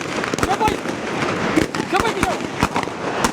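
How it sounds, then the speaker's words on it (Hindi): Sharp gunfire and rocket bursts in Lyari, a rapid irregular series of loud cracks from several directions, with people talking and shouting underneath. "दोबारा फायरिंग शुरू हो गई है और ये चारों तरफ से फायरिंग की जा रही है"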